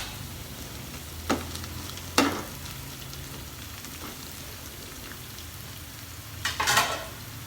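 Red onion frying in a pan with a steady soft sizzle like light rain, broken by a few sharp stir or utensil clicks, the loudest burst near the end, close and with no talking.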